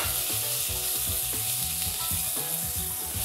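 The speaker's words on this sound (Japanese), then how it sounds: "まず最初に豚のバラを入れます。" Thin slices of pork belly sizzle loudly in a hot pan for fried noodles with garlic chives, a dense constant crackle with soft stirring knocks and scrapes underneath.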